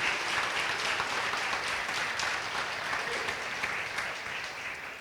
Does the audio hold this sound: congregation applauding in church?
yes